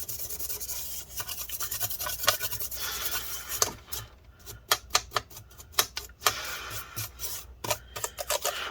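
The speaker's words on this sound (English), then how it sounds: "let's go ahead and use the toothbrush and scrub that up" A toothbrush scrubs inside an opened late-2016 15-inch MacBook Pro, giving close, dry bristle rubbing that becomes rapid irregular scratchy strokes in bursts.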